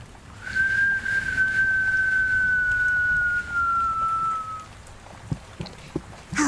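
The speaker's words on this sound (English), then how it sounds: "Would you want to hear more whistle airs?" A person whistles a lullaby tune as one long, clear sustained note that glides slightly lower, then gives way to near quiet with a few soft taps.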